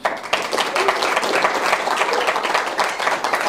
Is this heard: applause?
yes